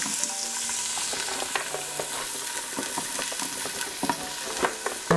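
Onions hitting hot oil in a pot for chicken and potatoes, a lively close sizzle with frequent small clicks and scrapes of stirring, continuous and fairly loud, no talking.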